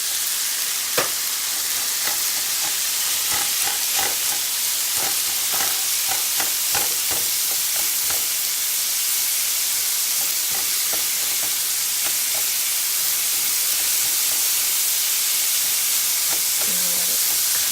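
Chicken fried rice sizzles steadily in a hot pan, a loud continuous frying hiss broken by repeated scraping taps of a spatula stirring the rice.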